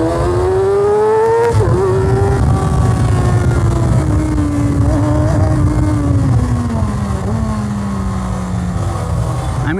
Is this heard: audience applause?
no